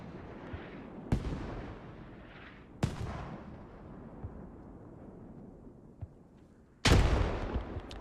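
Grenade airbursts and explosions in a tactical shooter video game: several sharp, loud booming blasts spaced seconds apart, each followed by a decaying rumble, with the last blast the heaviest. No talk is heard.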